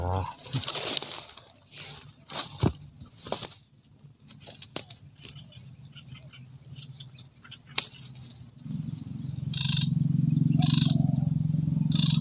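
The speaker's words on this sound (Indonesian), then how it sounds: "ini pohon banyak burung ya dari tadi teman-teman macam-macam yang hinggap di sini pohon depan ini" Many birds of various kinds perched in a tree beside a waterside fishing spot, calling in scattered chirps and calls over a steady insect or cricket hum, with a louder buzzing drone rising toward the end.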